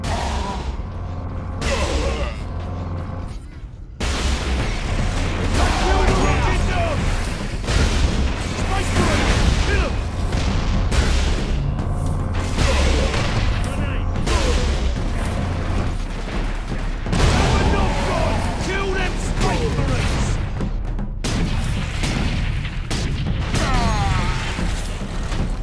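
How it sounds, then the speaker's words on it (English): Ork rocket launchers firing from high ground in Warhammer 40,000: Space Marine, a dense run of booming blasts and crashing impacts that keeps on nearly the whole time, loud and close, with a voice talking over it. "Orc rocket launchers on the high ground."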